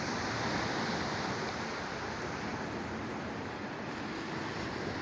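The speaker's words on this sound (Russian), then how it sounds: "Волны какие-то появились. Небольшие, правда." Small sea waves wash steadily onto the shore at Adler on an overcast December day, a continuous broadband surf hiss with no talking.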